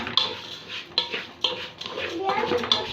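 Rice being stirred in a pot while cooking fried fish, repeated close scraping and knocking of a utensil against the metal pot in an uneven rhythm, with a voice faintly in the background.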